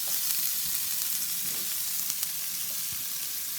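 Shrimp sizzle in a skillet on an outdoor grill, a loud, steady frying hiss with small crackles and pops running throughout.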